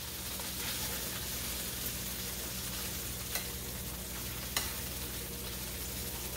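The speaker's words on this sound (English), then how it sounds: "Just want to sear these for a little while." Cube steaks sear in a hot pan with a constant close sizzle, broken by a few sharp clicks and scrapes from turning or stirring, no talking.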